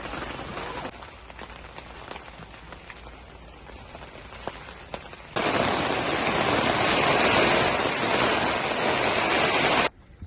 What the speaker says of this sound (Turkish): Böyle oluyor işte, bir anda yağmur çıkıveriyor.